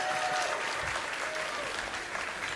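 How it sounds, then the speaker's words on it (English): An arena crowd at a gaming convention applauds the commentators, a thick, sustained roar of clapping with some cheering mixed in, steady throughout. "Can we get a round of applause for the commentary?"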